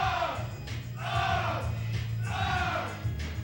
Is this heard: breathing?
no